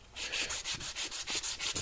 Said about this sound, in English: I figured sanding was a good time to chat with you guys